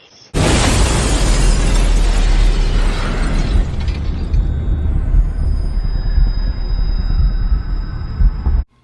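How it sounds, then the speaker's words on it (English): An explosion bursts in suddenly during an animated Star Wars lightsaber fight, loud and broadband, then trails off into a long rumbling, crackling tail of falling debris and shattering glass with no voices. "We have a long pause, which is preceded by an explosion."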